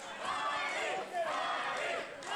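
Wrestling crowd at a Future Stars of Wrestling event cheering and chanting, a dense, loud roar of many voices that swells and rises in waves, filling the whole moment.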